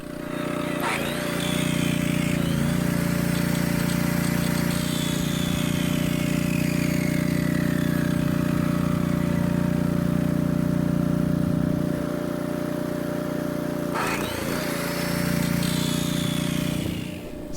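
A small portable generator on a houseboat build drones steadily with a constant hum, and a few sharp mechanical clatters break in near the start and later.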